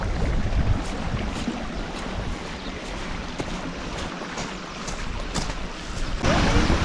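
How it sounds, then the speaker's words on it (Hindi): Floodwater from Cyclone Remal overflowing out of a fish-stocked farm field in Ziro, a constant close rushing wash of water that fills the whole stretch without pause. "और यहाँ से भी ओवरफ्लो होता हुआ पानी जा रहा है।"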